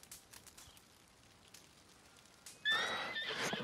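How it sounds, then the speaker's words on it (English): A horse in Red Dead Redemption 2 lets out a sudden, loud whinny after a quiet stretch of faint ambient game noise, the call rising sharply and then trailing off. "The horse."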